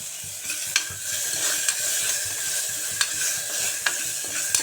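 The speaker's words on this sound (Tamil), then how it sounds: "இந்த இருக்க தக்காளியும் போட்டு நல்லா வணக்கி விடுங்க" Tomatoes and onions sautéing in a pan for a moong dal kuzhambu, a steady close sizzle with repeated stirring scrapes at a regular pace, no voices.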